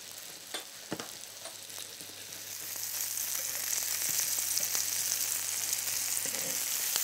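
Apple slices hit melted butter in a pan with a few clatters, then a loud, steady sizzle and crackle of frying builds up and holds close, with no talking over it.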